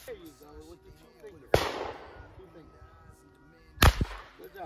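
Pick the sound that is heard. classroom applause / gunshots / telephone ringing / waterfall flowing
gunshots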